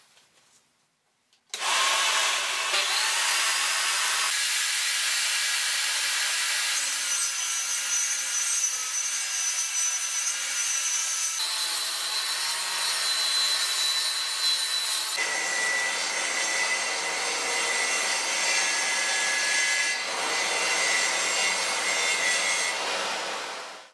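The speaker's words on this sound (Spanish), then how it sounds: "Enchufo la máquina y voy a cortar una pieza de madera." A circular saw mounted in a table-saw stand cuts a piece of wood, a loud continuous high whine that shifts pitch in stages as the blade moves through the board, starting after a brief quiet moment.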